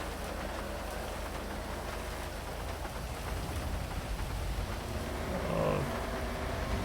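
Steady rain hiss from a GTA online car race on a high speed section, broadband and continuous throughout with a faint rising engine swell late on, no talk.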